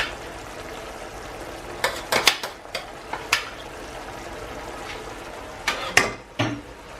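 Chicken juices go into a frying pan and sizzle under a constant soft hiss while a utensil stirs and scrapes the pan in sharp clustered clinks, with a second burst of stirring near the end.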